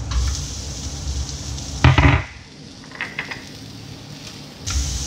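Onion and dried shrimp paste go into a hot pan with salted fish, giving a burst of sizzling and clattering as they hit the oil, followed by quieter crackling frying and another surge near the end.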